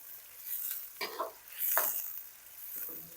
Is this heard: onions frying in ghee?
yes